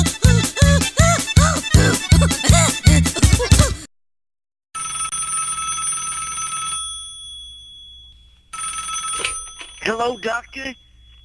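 A comic novelty phone ringtone plays loud and alone, first a rhythmic run of sung or voiced bursts, then a sustained electronic tone with a brief gap and a final warbling burst.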